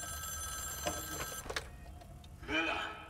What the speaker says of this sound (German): Aber wir gehen erstmal ans Telefon.